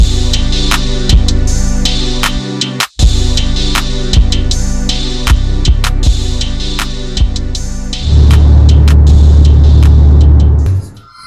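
A Mercedes car driving along a road toward Quebec on the Gaspé Peninsula: a steady, loud cabin drone with a brief dropout early on and a heavier, rougher rumble near the end.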